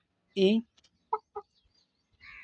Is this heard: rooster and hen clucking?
yes